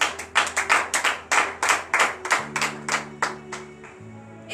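A congregation claps in unison at a morning prayer service, a steady run of sharp, fairly close handclaps with a sustained organ-like tone underneath and no talk.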